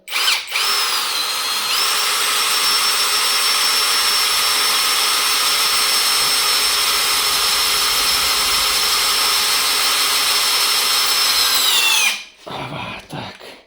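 A small LEADER cordless impact drill-driver rated 45 Nm whines loud and steady for about ten seconds while driving screws, then cuts off abruptly, followed by brief clattering handling noise.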